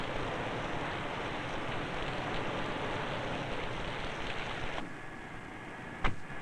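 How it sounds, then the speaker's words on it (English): Simulated downpour spraying onto a newly built car on a factory line to test the seal of its windows, doors and deck lid, a steady hiss of drumming water that drops off sharply near the end, followed by a brief knock. "Test the fit of windows, doors, and deck lid in this simulated downpour."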